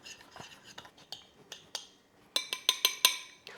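A spoon stirring a salt, black pepper, poultry seasoning and olive oil rub in a bowl, with a series of light clinks and scrapes that grow into sharper, louder metallic taps near the end.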